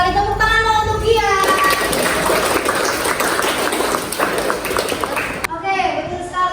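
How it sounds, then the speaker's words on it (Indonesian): Classroom applause for a student: a burst of clapping from a group of students lasting a few seconds, loud and close, with a voice talking just before and after. "Tepuk tangan dong untuk dia."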